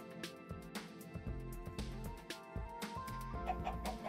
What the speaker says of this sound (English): And we should probably let our poor sand chicken hatch.